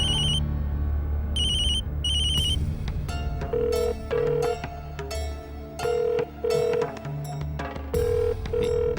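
Phone call ringing with no answer, a loud repeating electronic ringback melody in regular bursts of tones with short pauses, heard over low background music.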